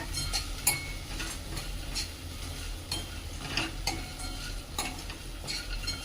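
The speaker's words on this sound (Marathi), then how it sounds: "व्यवस्थित परतून घ्यायचे तेलामध्ये छान परतून घ्यायचे तेलामध्ये छान" Vadas made from moth bean, mung, urad and chana dal being turned in hot oil: a continuous soft sizzle with frequent stirring scrapes and light clinks of a utensil, close and fairly quiet.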